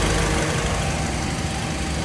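A Mazda car engine idles steadily nearby, a smooth continuous low rumble with a faint hum and no voices.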